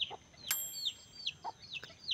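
A chicken clucks softly, a few short clucks and squeaky notes spread over two seconds with one sharp click, faint and close.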